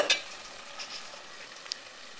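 Tomatoes frying with spices in a pan, a soft, steady sizzle with a faint crackle near the start, quiet and continuous for a couple of seconds.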